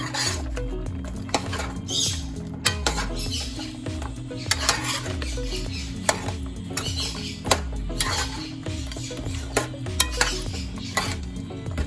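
Aloo gosht curry of potatoes and meat being stirred in a cooking pot, a spoon scraping and knocking against the metal in a steady rhythmic pattern with frequent sharp clinks, loud and close, no talking.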